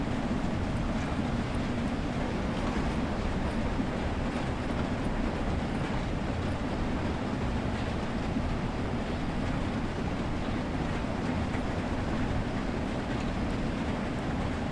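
A train running in the Train Sim World 3 simulator, its loud, continuous rumble and rail clatter holding steady throughout with no one talking over it.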